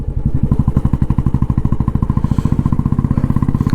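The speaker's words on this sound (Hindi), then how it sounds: "ज़बरदस्त साउंड कर रहे हैं बाइक।" A second-hand Royal Enfield Bullet Standard motorcycle idles close by with its indoor silencer, giving a loud, deep, evenly thumping single-cylinder beat that stays steady throughout.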